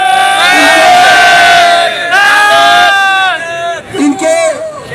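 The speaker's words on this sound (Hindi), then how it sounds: "दोस्तों आपने नारों का भरपूर जवाब देना है" A large protesting crowd of employees chants slogans in loud unison, voices rising and falling together in repeated call-and-response bursts, close and dense throughout.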